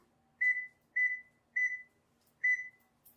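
A kitchen timer gives four clear, evenly spaced electronic beeps, each short and tonal, close and loud against a quiet home kitchen.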